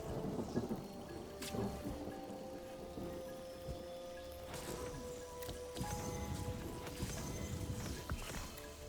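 Rain falls steadily in the video game Mind over Magic, a soft continuous hiss with low rumbling thunder rolls swelling and fading beneath it, quiet and distant.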